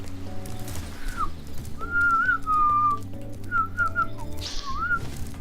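A person whistles an imitation of birdsong, a few bright warbling phrases with short pauses between them over a soft background of game music.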